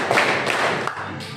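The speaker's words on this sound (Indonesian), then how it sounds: "Tepuk 4 kali." A group of people clap in short rhythmic bursts, four quick claps ringing out together in a classroom setting, fairly close and clear with no talking over them.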